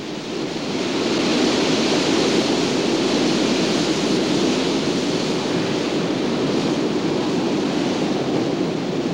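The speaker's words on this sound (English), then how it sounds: "those waves are pumping in from down in the storms in the South Pacific" Pacific Ocean surf at Tofino roaring steadily, a dense wash of storm-driven breaking waves on a beach, loud and continuous with no voices.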